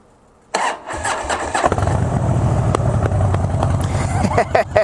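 A hot Harley-Davidson motorcycle engine cranks and catches after a silent start, then settles into a steady close rumbling idle with a few sharp clicks and knocks near the end.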